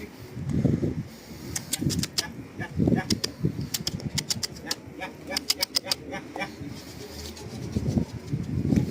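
A pigeon, an Iraqi tumbler-type bird, flutters and calls near a handler who scatters feed, with sharp repeated wing claps and pecking clicks over ongoing talk and background murmur.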